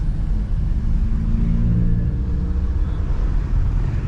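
A car pulls away in first gear on a steep hill road as the clutch is released and gas added, a steady low engine rumble and drone heard from inside, close and continuous with no voices.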